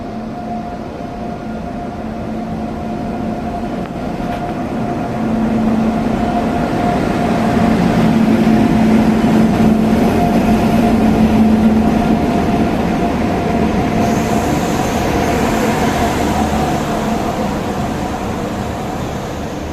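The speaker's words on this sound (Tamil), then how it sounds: "ஸோ வண்டி உள்ளே வந்துருச்சு" A Saurashtra Tamil Sangamam passenger train pulls into a station, a steady low rumble of wheels and engine swelling over several seconds, holding loud through the middle, then easing slightly as it rolls on, with no talk.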